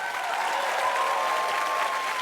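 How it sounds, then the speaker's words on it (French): Applause from a television studio audience during a French variety show, with dense, even clapping at a steady, moderate level throughout and no voices over it. "je demande un tonnerre d'applaudissements pour nos parrains."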